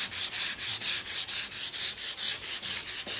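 Rhythmic hand sanding on aluminum with 80-grit sandpaper, about a dozen even back-and-forth strokes, close up and steady, with a gritty, scratchy hiss.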